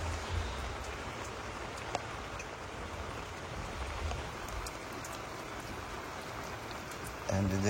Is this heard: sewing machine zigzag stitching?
no